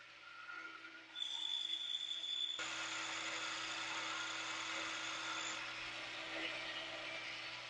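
Metal lathe taking a 50-thousandths cut off the diameter of a steam locomotive power quadrant part, a steady high whine that starts partway in and runs on unchanged, fairly quiet, with no talking.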